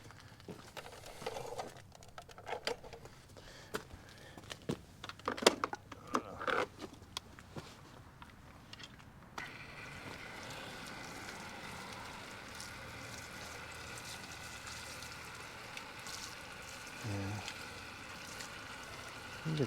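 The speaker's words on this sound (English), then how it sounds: "Same thing with the side cover. Good thing is the side cover won't be rusted. Let me hose it off." A hose sprays water over a motorcycle side cover, first as scattered splashes and clatter, then as a steady, fairly quiet hiss of running water.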